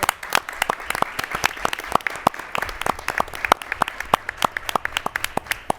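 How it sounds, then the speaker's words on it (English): Scattered but steady clapping from a modest crowd at a school board meeting, honoring six schools. Distinct individual claps stand out sharply over a softer bed of applause. "So let's give these 6 schools here with us tonight, a huge round of applause for this"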